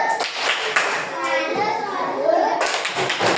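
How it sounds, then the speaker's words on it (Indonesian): A classroom of children does a rhythmic clapping cheer during a lesson. Sharp bursts of claps come at the start and again at the end, and children's voices chant in between. "Duduk sudah, tepuk salut kasih Dino"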